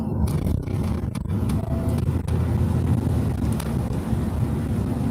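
Truck cab interior while driving on a road in Poland, a steady broadband rumble of engine and road noise with wind buffeting, continuous and fairly loud throughout, with no voices.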